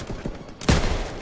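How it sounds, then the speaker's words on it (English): A grenade explodes in Call of Duty, a single sudden loud blast after a brief quieter lead-in, followed by a lingering rumbling decay. "Grenade out!"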